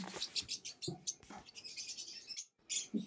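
Mutation lovebirds at a bird farm chirp in quick, shrill bursts that repeat through the moment with brief pauses. The chirps are close and clear, with no voices.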